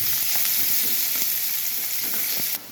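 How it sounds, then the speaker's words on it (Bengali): Onions fry lightly in a pan for chicken stew, a loud, dense sizzle with faint stirring scrapes throughout, stopping suddenly at the end. "পেঁয়াজ দিয়ে দিলাম, পেঁয়াজগুলো হালকা ফ্রাই করে নেবো"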